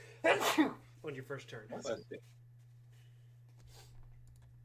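A single sharp, loud sneeze bursts out close to the mic at a tabletop role-playing game session, followed right away by a person speaking a few words, then a quiet room.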